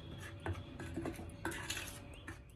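Dry flour being mixed with ground coriander, salt and Kashmiri chilli powder as a coating for KFC-style chicken, heard as soft scraping and clinking of a spoon against a bowl, fairly quiet and steady with no talking.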